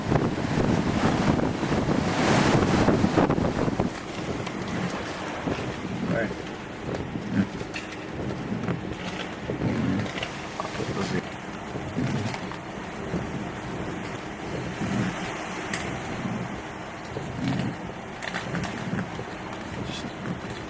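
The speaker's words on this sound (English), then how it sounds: "Waves are coming in. They just come through here, flow in." Heavy surf and strong wind from Hurricane Sandy lash the North Carolina Outer Banks coast, a steady roar of waves with gusting wind buffeting the microphone, loudest at the start, with a person talking intermittently over it.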